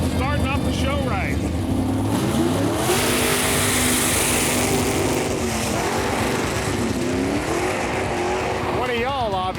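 A 1970 Chevy Nova does a loud, continuous burnout, its engine revving hard with rising and falling pitch alongside tire roar, while people shout and talk in the background.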